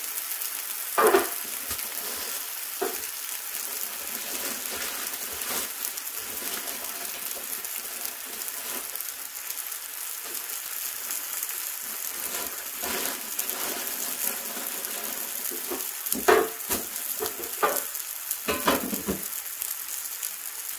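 Turkey rashers frying in a pan: a steady close sizzle and hiss throughout, with occasional scrapes and clicks of a utensil moving them, and no talking.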